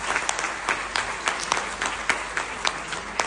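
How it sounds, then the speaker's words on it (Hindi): An audience applauds at a Hindi Diwas speech event, a steady wash of many hands clapping throughout at moderate distance, with no voices over it. "एक जोरदार तालियां हमारी रश्मि जी के लिए।"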